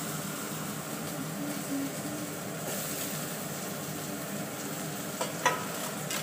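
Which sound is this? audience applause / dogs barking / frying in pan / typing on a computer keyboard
frying in pan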